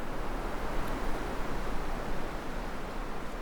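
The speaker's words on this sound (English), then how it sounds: "the sound of the wind in the trees you can hear now" Steady broadband rush of wind moving through the trees of an old woodland at the Old Wood of Drum near Aberdeen, a continuous soft roar with gentle rustling and no voices.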